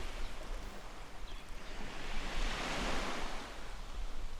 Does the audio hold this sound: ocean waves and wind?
yes